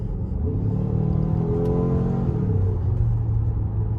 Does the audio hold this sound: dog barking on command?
no